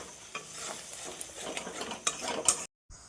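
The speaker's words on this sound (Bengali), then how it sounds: "তো ডিম দুটো এর মধ্যেই নাড়িয়ে নেবো" Two eggs fry in a pan with fenugreek while being stirred. Scraping utensil strokes and light sizzling come quietly and close, ending in a short abrupt silence.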